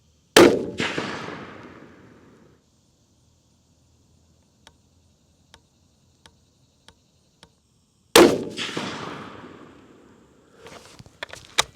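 Two loud, close rifle shots from a Christensen Mesa .300 PRC fired several seconds apart, each with a sharp crack and a long rolling echo, and faint ticks and clicks between them, with no talking.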